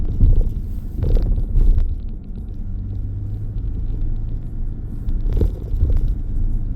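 A Mercedes-Benz Sprinter Luton van, a 2.1 314 CDI with six-speed gearbox, rolls over a speed bump with a low, steady rumble of engine and road noise inside the cab, a few thumps rising from the drone.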